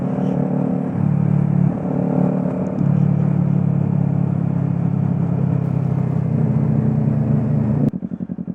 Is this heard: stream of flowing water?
no